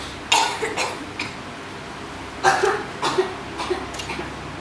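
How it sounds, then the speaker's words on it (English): Several short, scattered coughs sound out in a quiet room, a couple in quick succession, with pauses between. "Before long, Goopy and Baga started coughing."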